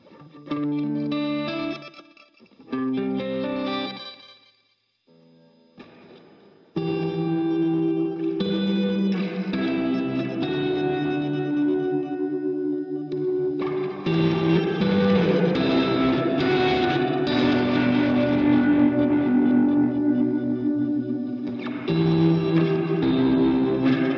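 Guitar run through a glitch delay pedal on a worship pedalboard, with sustained chords smeared by stuttering, repeating echoes and heavy modulation, two short phrases then a long continuous wash, loud and close with no talk.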